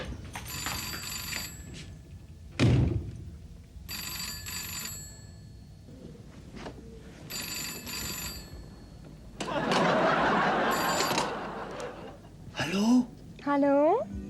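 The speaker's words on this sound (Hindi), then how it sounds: "पूनम! जब तुझे मालूम है कि रॉन्ग नंबर आती तो फिर क्यों फोन उठाती है?" A telephone rings in short repeated bursts in an indoor scene, alternating with people talking and brief noises in between.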